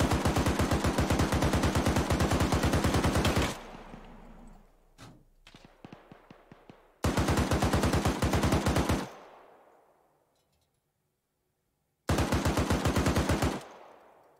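Machine gun fire in Arma 3 rips out in three long sustained bursts of rapid shots, loud and close, with metallic clatter and a fading echo tail between them and a quiet gap before the last burst.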